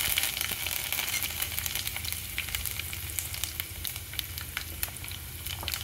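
Dried chilies, garlic and curry leaves crackle and sizzle in hot oil for drumstick curry, a steady dense frying hiss with scattered sharp pops throughout, close and fairly loud with no talking.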